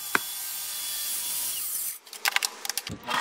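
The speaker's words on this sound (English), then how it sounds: "I used a circular saw to start it and this clamp system" A circular saw, clamped to a guide, cuts wood for a mid-century side table: a loud, steady whine for about two seconds cuts off abruptly, then a few close knocks and clatters of wood and tools.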